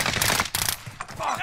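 Gunfire in the video game Call of Duty Warzone, dense bursts of loud automatic shots over roughly a second and a half, with brief gaps and game noise mixed in.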